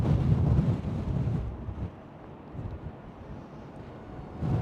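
Strong wind buffets the microphone at the Schiphol Airport P3 long-term parking garage in Amsterdam, a loud, continuous rumbling roar that gusts and eases without any voices.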